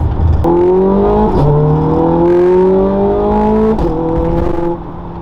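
A Ferrari 430 Scuderia engine accelerates hard through the gears, its loud, slightly rattly, racy note climbing in pitch with brief dips at the shifts, heard alone and up close.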